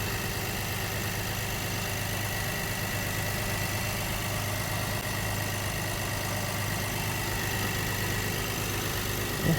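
A Honda Pilot engine idles after an oil change with an even, low rumbling hum that never changes pace, steady and close, with no talking.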